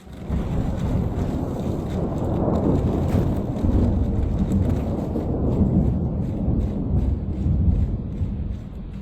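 Thunder from a lightning strike during a rainstorm rolls as a heavy, sustained low rumble, mixed with the wash of rain and wind buffeting the microphone, loud and unbroken throughout.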